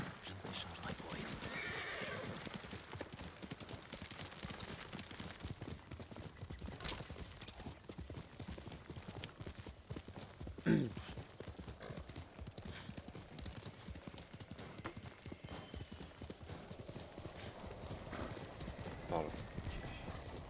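A horse in Ghost of Tsushima clip-clops at a steady rhythmic pace along a path and gives a neigh, with the game's ambience and someone talking over it.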